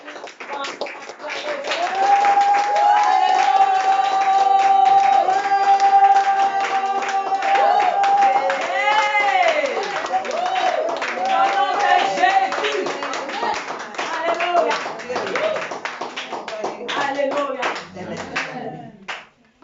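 Congregation at a praise service clapping steadily with cheering and voices, a dense, lively crowd sound sustained throughout with singing-like tones over the rhythmic hand claps.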